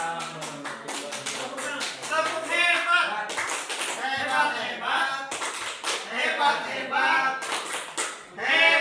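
A classroom group in a peer-teaching session performs a rhythmic clapping chant, sharp synchronized claps in quick patterned bursts mixed with voices chanting along throughout.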